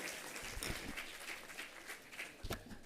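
An audience at a university G20 event applauds the competition winners, faint, continuous scattered clapping with a few louder, sharper claps standing out.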